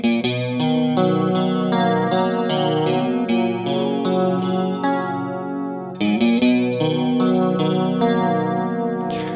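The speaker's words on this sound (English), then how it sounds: "And let's start with the super chorus." Clean electric guitar played through a Boss CH-1 Super Chorus pedal, with shimmering, wavering chorus on arpeggiated chords and single notes, loud and close, steady over nine seconds with no talking.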